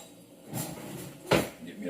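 Cutlery clattering as a fork is taken from a kitchen drawer or rack, two short clinking bursts close by, the second louder, with talk over it.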